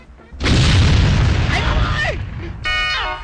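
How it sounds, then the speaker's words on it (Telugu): A crude homemade country bomb explodes in a loud, sudden blast that rumbles on, followed by a sharp, whistling tonal burst near the end; no talking. "కడప బాంబులు నిజంగా పేల్తాయా"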